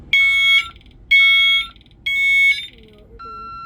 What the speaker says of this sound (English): I'll turn off the alarm.